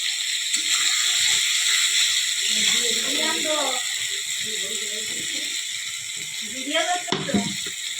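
Lote fish dropped into an onion paste spice mixture frying in a pan, producing a steady, bright sizzle that runs throughout while someone talks over it.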